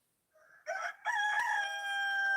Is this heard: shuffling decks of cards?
no